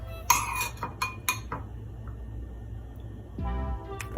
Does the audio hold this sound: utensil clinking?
yes